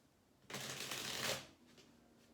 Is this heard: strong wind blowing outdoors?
no